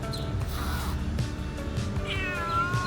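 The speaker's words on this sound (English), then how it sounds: "Hong Kong cats." A Hong Kong street cat meows several times in close succession, near and clear, against a faint outdoor street background.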